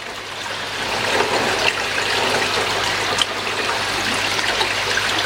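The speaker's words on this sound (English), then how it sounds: "Just leaving the Cyprax on top so the water can flow through it." Water trickling and splashing through pond filter media, a steady close gurgling flow with a couple of small sharp knocks, no voices.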